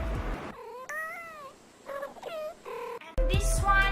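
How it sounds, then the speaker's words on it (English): A cat meows and caterwauls in several separate calls, some long and wavering, others short, close to the microphone with bursts of background noise at the start and end. "Can you interpret what this cat is saying?"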